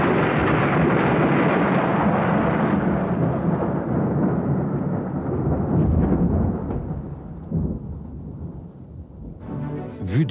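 A thunderstorm gives a long, deep rolling peal of thunder that starts loud and slowly rumbles away over ten seconds, with fainter crackles and a sharper burst at the end.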